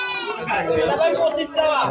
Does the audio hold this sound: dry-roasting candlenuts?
no